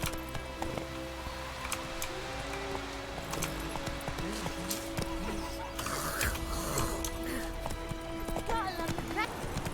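Horse hooves clip-clop at a steady gallop in The Witcher 3, a continuous run of rhythmic hoofbeats under game music and ambience, with voices talking over it.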